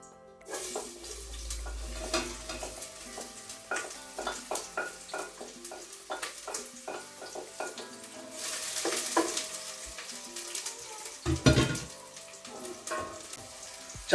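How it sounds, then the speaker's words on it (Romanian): Oil crackling and sizzling in a pot as onions fry and are stirred, with scraping clinks of a utensil and a brief louder hiss partway through. "Lăsăm uleiul să se încingă și după aceea o punem la călit."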